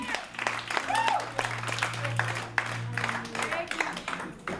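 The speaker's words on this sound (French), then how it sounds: "Applaudis pour Jésus" Applause from the audience at an African Christian conference, a dense crowd clapping under voices and cheers, with a steady low hum running beneath.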